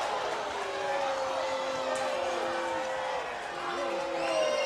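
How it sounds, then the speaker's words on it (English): Crowd at the 2013 OHSAA Division II high school softball championship, Licking Valley fans cheering and shouting in a sustained, fairly distant roar that swells briefly near the end. "Well, the Licking Valley crowd wanted that one."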